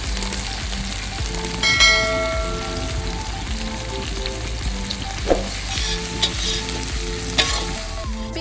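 Chopped onions with salt sizzle and fry in a pan of hot spiced oil, a dense steady crackle with occasional scrapes of stirring, close and alone.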